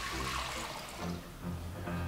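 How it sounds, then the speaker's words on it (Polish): Water poured into a cooking pot set over a fire for bread soup, a brief, close, continuous splashing gush that surges and eases. "Stawiamy garnek na ogień, wlewamy wodę,"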